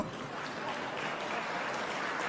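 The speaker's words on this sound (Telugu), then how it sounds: "క్లాప్స్ కొట్టండి అమ్మా" An audience at a speech by an Andhra Pradesh assembly speaker clapping, a steady dense wash of applause throughout, moderately loud with no talk over it.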